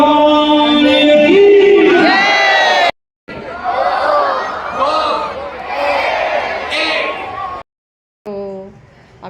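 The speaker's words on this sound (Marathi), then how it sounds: "आरतीसाठी किती प्रचंड गर्दी झालेली सर्वीकडे बघा" A huge crowd gathered for the Ganga aarti by the Godavari in Nashik gives off loud, massed voices, shouting and chanting together. The din breaks off twice in short silent gaps.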